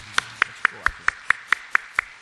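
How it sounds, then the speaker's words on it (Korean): A church congregation claps together to encourage the children standing up, a steady, evenly spaced run of about nine sharp claps in unison. "자, 우리 박수로 한번 격려합시다."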